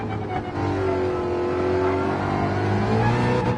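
A race car engine revs hard in Gran Turismo 7, a loud sustained whine rising in pitch after a short dip near the start, with no one talking.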